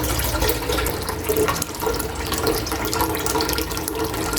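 Water pours steadily into a cooking pot outdoors for a sour catfish broth, a continuous splashing gush with no break and no talking over it.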